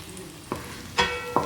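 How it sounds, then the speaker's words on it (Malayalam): Sliced onions and chopped green chillies sautéing in oil in a pan, a close, steady sizzle broken by three quick scraping stirs of a spoon across the metal, with no voices. "അതിലേക്ക് നമുക്ക് 2-3 പച്ചമുളക് അരിഞ്ഞ് ഇട്ട് കൊടുക്കാം. സവാള ഒന്ന് നന്നായിട്ട് മൂക്കട്ടെ."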